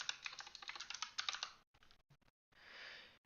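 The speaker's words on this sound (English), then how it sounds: "we're going to type the select and the table name called the test value" Rapid close keystrokes clatter on a computer keyboard in a burst of typing, then thin out into a few scattered taps and a brief soft rustle.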